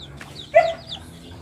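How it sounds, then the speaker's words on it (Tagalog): Chickens in a coop on a poultry farm give a single short cluck up close, otherwise quiet with faint background hum. "Dito yung mga malaking manok."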